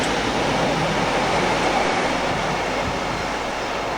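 A steady, loud rumbling roar of a train passing close by near a railway bridge, continuous broadband noise throughout with no voices.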